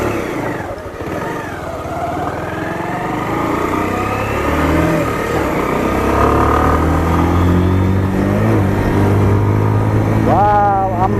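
A Pulsar motorcycle ridden on a mountain road in East Sikkim, its engine rising and falling through revs with rising whine as it accelerates, close and loud, steady throughout with a brief sharp rev near the end.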